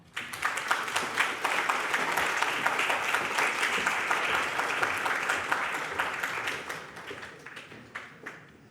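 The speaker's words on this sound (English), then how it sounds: "Let's give her a big applause" Sustained applause from a talk audience, steady dense clapping for several seconds that gradually thins out toward the end.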